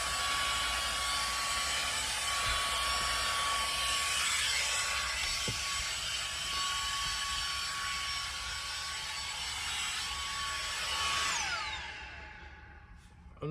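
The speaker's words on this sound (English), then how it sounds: "So that is like a little portable vacuum cleaner" A small portable vacuum cleaner runs with a steady high-pitched whine and motor hum for about eleven seconds, heard close, then spins down and stops.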